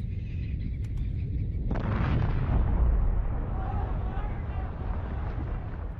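Historic explosive eruption of the Tambora volcano in 1815, rendered as a sudden deep boom after a brief quiet that swells into a long, loud, rumbling roar with no talk over it.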